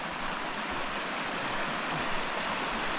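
A stream running high after rising water rushes steadily over rocks along a forest trail, a loud continuous broadband roar close by with no talk.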